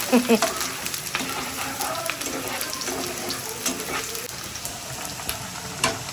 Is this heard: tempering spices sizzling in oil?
yes